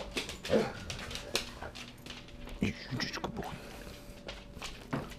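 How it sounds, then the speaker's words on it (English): Two pet dogs whimper and yip in short, scattered bursts, with bumps and footsteps close by. A person talks over them now and then. "now I'm gonna do a clip of my dogs"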